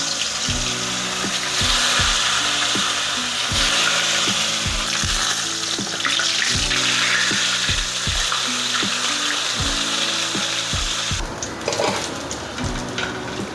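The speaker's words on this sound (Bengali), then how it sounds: "তেলটা গরম হয়ে গিয়েছে এখন এই লবণ হলুদ আর লেবুর রস মাখিয়ে রাখা মাছটা এর মধ্যে দিয়ে ভেজে নেব" Fish rubbed with salt, turmeric and lemon juice sizzles steadily in hot oil, a dense continuous frying hiss with regular low knocks and clatter throughout, no voices.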